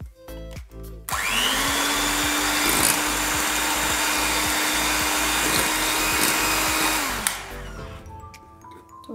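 An electric hand mixer beats cracked eggs in a bowl for an oven-free sponge cake, a loud steady motor whir running almost the whole time with a few small knocks, starting and stopping abruptly.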